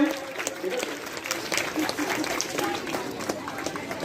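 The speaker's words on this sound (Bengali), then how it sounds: "হাততালি দাও সবাই একটু এদেরকে" A crowd claps for prize winners at a school's annual sports event, with scattered applause and crowd noise mixed under a person talking nearby.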